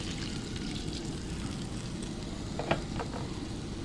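Broth poured over beef frying in a pan for kaldereta, giving a steady close sizzle that holds throughout, with a few brief splashy bursts near the end.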